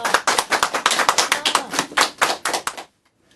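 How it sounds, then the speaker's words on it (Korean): Audience applause welcoming a speaker at a labour-movement talk comes as a quick, fairly even run of loud, close claps for nearly three seconds, then cuts off abruptly into silence. "큰 박수 맞이해 주십시오"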